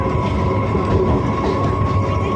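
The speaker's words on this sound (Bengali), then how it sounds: "আমি ট্রেনে ওঠার আগে একটু ভিডিও করে নিলাম" Continuous rumbling of a train in motion, a steady low roar with a faint high whine and rhythmic rattle throughout.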